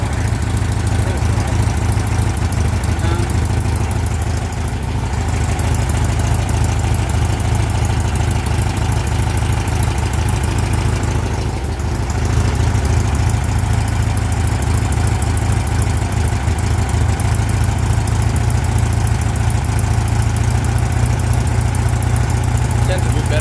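A VW car engine idles with freshly fitted spark plugs, a loud, steady low rumble with even vibration that continues unbroken, with brief dips and a faint voice now and then.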